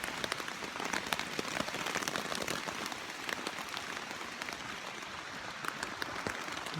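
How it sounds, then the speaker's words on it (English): Steady rain pattering on leaves and ground in a Red River Gorge forest in Kentucky, dense crackling drops continuing evenly throughout at close range with no talk. "There's the rain."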